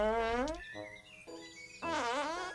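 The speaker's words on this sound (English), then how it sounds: "Oh my god, why do I keep farting?" Cartoonish video game fart noises from a comedic life simulator, two long buzzy, wavering blasts framing a quieter, flatter middle tone, loud and close with no talk.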